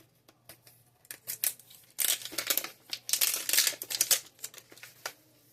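Thin plastic wrapper of a SpongeBob mystery mini ball being torn and crinkled open by hand, with irregular bursts of crackling and ripping, a busier stretch in the middle, and no talking.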